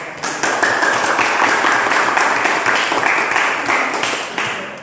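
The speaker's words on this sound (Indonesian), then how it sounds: "mari kita berikan aplaus pada kelompok 3 atas" A classroom audience applauds a student discussion group, with steady, dense clapping from many hands sustained for several seconds before tapering off.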